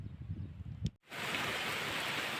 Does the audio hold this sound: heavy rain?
yes